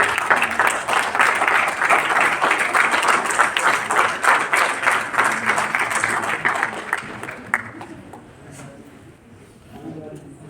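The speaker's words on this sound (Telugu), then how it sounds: "you can continue the claps" An audience applauds after a workshop speech at a wellness academy, with dense, sustained clapping from a room full of people that thins out and fades toward the end.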